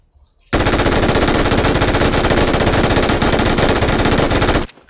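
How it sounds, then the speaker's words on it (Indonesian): An MG3 machine gun in PUBG fires a continuous full-auto burst for about four seconds, loud and relentless, then abruptly stops. "MG3 ditembak selama 4 detik dalam mode brush, dalam mode full auto full speed"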